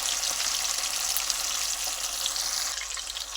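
Fish fries in a pan over a low flame, producing a continuous dense close sizzle and hiss with no talk.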